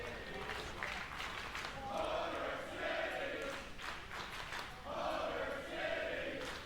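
A wrestling arena crowd in Toronto cheers during a tag team match, a faint, distant roar that swells and dips in waves.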